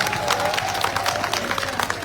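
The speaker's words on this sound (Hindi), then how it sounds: "इनके लिए जोरदार तालियां एक बार पीछे तक बजनी चाहिए" Crowd at an outdoor campaign rally in Mustafabad, Delhi, clapping and cheering steadily throughout, a dense wash of applause with voices mixed in and a sustained tone running beneath.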